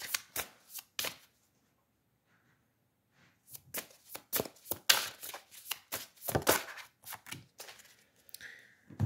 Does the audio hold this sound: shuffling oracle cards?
yes